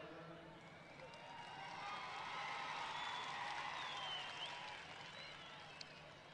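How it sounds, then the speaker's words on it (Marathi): Crowd at a political speech in Kolhapur clapping and cheering, a distant, faint wash of applause with whoops that swells in the middle and lingers with a low hum beneath. "टाळी वाजवणार का"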